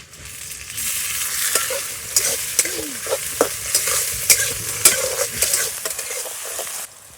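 Chopped onion and tomato frying in oil in a pan over a wood-fired stove outdoors on a farm, a steady close sizzle with repeated stirring scrapes and clicks of a utensil through the pan, no voices.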